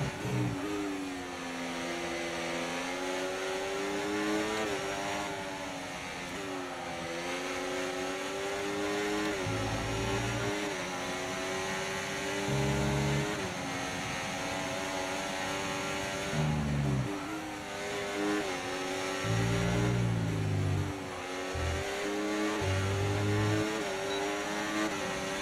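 Formula 1 race car engine in the F1 24 video game during a career race in Austria, a sustained high-pitched whine rising through the gears with brief dips at each upshift, steady and fairly loud.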